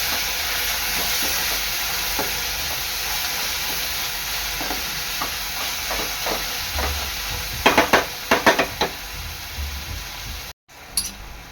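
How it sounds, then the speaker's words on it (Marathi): Finely chopped tomatoes sautéing in a pan for a garlic-fenugreek curry, a steady close sizzle with intermittent spatula scrapes and stirs, a quick flurry of scraping near the end before it cuts off. "आता यामध्ये मी टाकणार आहे आपलं बारीक चिरलेला टोमॅटो, टोमॅटो चांगलं परतून घ्यायचं आहे"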